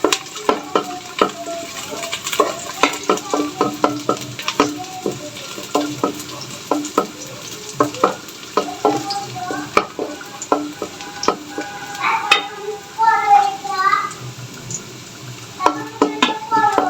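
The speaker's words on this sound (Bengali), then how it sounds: "এখানে আমি অল্প কিছু পেঁয়াজ দিয়ে দিচ্ছি।" Onions and spices fry in hot oil in a pan for chicken biryani, a steady sizzle under repeated clinks and scrapes of a spoon stirring against the metal.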